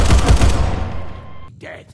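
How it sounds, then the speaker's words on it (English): Gunfire in the video game Fallout 4, a loud rapid burst of shots with a booming low end that fades into a ringing tail. "Somebody's out there shooting the place up."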